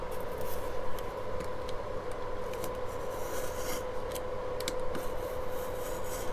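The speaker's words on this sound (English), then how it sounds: "with a bit of patience and a good craft knife, we can get through all of this in one" Craft knife slicing through junk mail envelope paper, a faint, steady scratchy rasp of blade on paper with a few small ticks, close and quiet with no talk.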